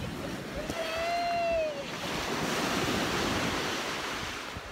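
Ocean waves wash onto a beach at sunset with a steady, full surf roar and some wind. A short tonal sound rises briefly near the start.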